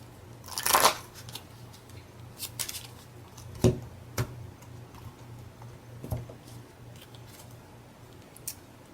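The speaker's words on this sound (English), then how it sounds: "shuffle up." A Pokemon trading card deck is shuffled by hand, heard as a quick riffle burst near the start followed by scattered soft taps and ticks of cards being squared and handled close by, with no talk.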